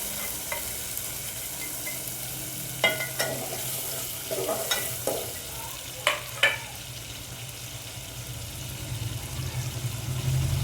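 Black masala paste frying in hot oil for a soybean curry, with a steady low sizzle and occasional sharp scrapes and clinks as it is stirred.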